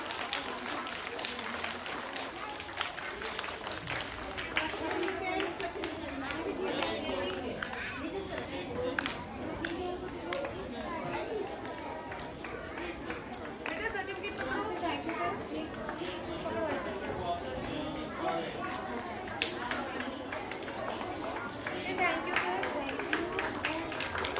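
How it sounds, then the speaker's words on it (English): Children clap at a school Diwali and sports-week prize distribution ceremony, with scattered, uneven applause over the lively chatter and play of many kids in a noisy, echoing crowd. "Clapping everyone. The clap should be loud."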